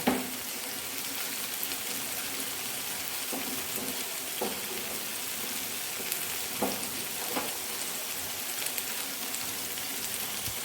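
Marinated hariyali paneer tikka sizzles and fries in oil on a stone pan, a steady, close crackling hiss with a few soft taps and scrapes as pieces are moved.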